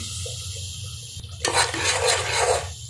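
Ginger, garlic, onion and tomato hit hot oil in a pan with a sudden loud sizzle after a quieter simmer, then keep frying steadily and close by.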